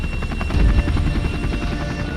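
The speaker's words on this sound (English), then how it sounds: "The only way in and out fast is by chopper." A rescue helicopter flies in over the rough terrain of Kakadu, its rotor chop thumping steadily and loudly throughout with a deep low-end rumble, no voices present.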